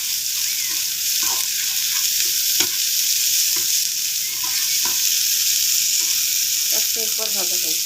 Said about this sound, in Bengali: এখন সবগুলো উল্টাপাল্টা করে ভেজে নেব।